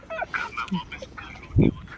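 Several honking bird calls, goose-like, sound at moderate distance, with one loud, harsh honk rising briefly above the rest near the end.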